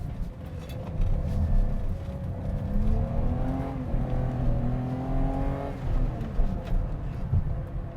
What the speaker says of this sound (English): Second gear, clutch kick.